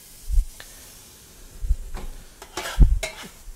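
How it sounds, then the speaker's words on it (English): Garlic and softened onions sizzle in a pan as a utensil stirs them, with several scraping strokes and soft hissing between them, close and fairly loud, with no talking. "Going to go ahead and add our garlic."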